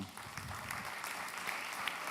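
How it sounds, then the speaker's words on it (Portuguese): Congregation applauding at a Papiamentu church service, a steady wash of clapping from many hands at moderate level, continuous for the full stretch without speech. "Nós temos, Senhor, forte aplauso para nós, irmão"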